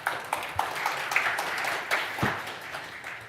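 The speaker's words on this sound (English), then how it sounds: "Give her a big applause." Audience applause at a hackathon opening day: a brief, moderate burst of clapping from a small crowd, fairly close and steady with a few sharper claps.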